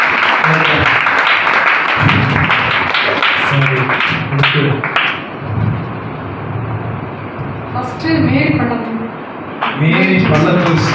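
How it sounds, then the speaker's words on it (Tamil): Crowd applause at a Bible quiz and Sunday class prize-giving ceremony: dense, continuous clapping through most of the clip, with a voice talking over it. "கைதட்டு உற்சாகமா?"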